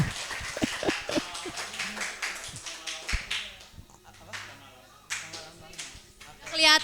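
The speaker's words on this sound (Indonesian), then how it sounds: "Tepuk tangan dulu buat kita semua adik-adik" Schoolchildren clapping their hands at a community outreach session in a madrasa classroom, with scattered quick claps in bursts mixed with children's voices and chatter, at moderate volume.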